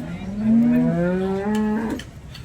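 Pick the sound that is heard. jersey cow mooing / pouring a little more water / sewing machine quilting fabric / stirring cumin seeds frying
jersey cow mooing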